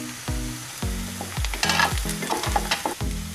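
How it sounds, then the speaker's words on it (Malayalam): Onions and cashews sautéed in a pan for Kerala-style chicken stew, with sizzling under a rhythmic series of repeated spatula scrapes and knocks about every half second, close and fairly loud, no talking. "എന്നിട്ട് നന്നായിട്ട് വഴറ്റി കൊടുക്കുക"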